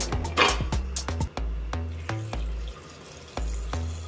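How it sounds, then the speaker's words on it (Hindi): Water is poured into a pressure cooker holding soaked chickpeas while making pindi chole, a running splashing flow with clattering knocks of metal throughout. "बस इतना पानी डालना है"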